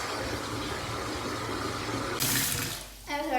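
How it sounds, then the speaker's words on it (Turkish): Tap water runs into a bathtub as it fills, a steady broadband rush throughout that swells brighter and louder near the end, with no talk over it. "suyu dolduruyorum şu an. Su doluyor."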